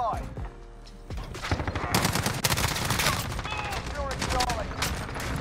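M13 rifle in Modern Warfare fires in rapid automatic bursts that start after a quiet opening second and continue as a dense, fairly low-level volley, mixed with game effects.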